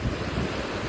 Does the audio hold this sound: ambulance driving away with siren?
no